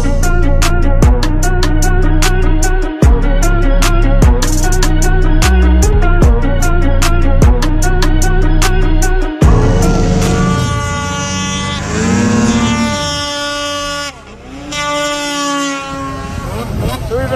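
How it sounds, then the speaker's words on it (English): Snowmobile engine droning loudly and steadily while riding, then revving and shifting pitch with rising and falling whines as the machine accelerates and slows. "Alright, so let's go snowmobiling."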